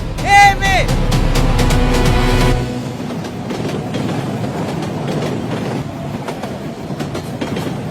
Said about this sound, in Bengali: ট্রেন আসি সরে যাও